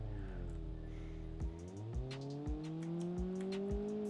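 A Toyota MR2 engine in BeamNG.drive rises steadily in pitch as the car accelerates, with brief thumps and clunks from the suspension recurring roughly every half second, loud and close with no talk.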